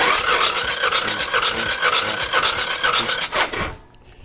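A Kia K2700 engine cranks on the starter during a compression test on cylinder number 3, a steady, loud rhythmic churning of even pulses that stops abruptly near the end.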